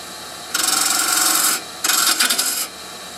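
A spindle gouge cuts into a wooden box blank in two close, bright scraping bursts, each about a second long, rough and rasping against a steady background hum.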